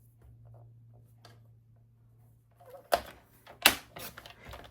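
Paper cardstock being cut with a trimmer while making a mini liquor bottle craft, two sharp close slicing strokes near the end after a quiet stretch of faint handling.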